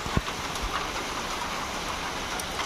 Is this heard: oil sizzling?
no